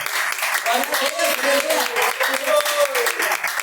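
A church congregation applauding, with dense, continuous clapping from many hands that fills the space, while voices sound through it.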